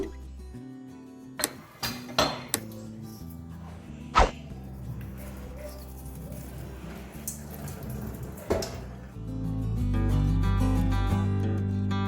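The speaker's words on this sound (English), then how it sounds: "I'm going to break few of them." Whole coconuts are cracked open in a kitchen for a pudding, giving several sharp, separate knocks and cracks spaced a second or two apart, then a steadier splashing and rumbling as the water pours out.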